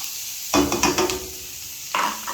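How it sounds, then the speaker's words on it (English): Onions and garlic in a pan of butter and oil give two sharp bursts of sizzling as they hit the heat. Each burst is close and crackly, with quieter gaps between. "my onions and my garlic, and I want to cook that until it's translucent, so it's sauteed."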